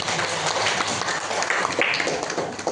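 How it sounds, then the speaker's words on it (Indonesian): Junior high classroom clapping for a student group, a steady wash of many hands applauding together, fairly loud and continuous with a few louder claps standing out. "Tepuk tangan dulu untuk kelompok audio."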